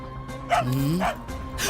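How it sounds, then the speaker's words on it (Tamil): A pet dog barks and yelps, a few short, close, pitched barks in quick succession over a steady background hum. "என்னது என்னைக்கு இல்லாம நம்ம நாய் என்னைக்கு இப்படி குலைக்குது"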